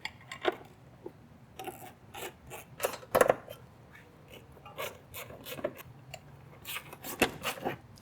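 Quiet metallic scraping, clicking and ratcheting as a jack is raised under a BMW E9X transmission and mount bolts are started by hand, scattered short sounds close by with no talking.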